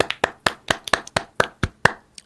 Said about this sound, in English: we could barely hear your applause there